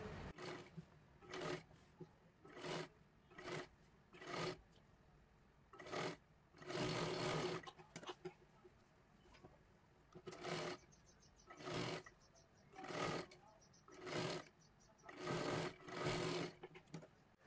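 A sewing machine runs a double stitch along a blouse sleeve in repeated short bursts, each a loud rapid whirring run separated by brief pauses, close and steady with no talk.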